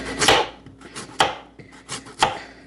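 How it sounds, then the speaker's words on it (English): A knife chopping potatoes for a pot roast, four or five close, crisp cuts in an uneven rhythm, each a sharp strike on the board with brief scraping between. "I'm going to have to chop all of them up"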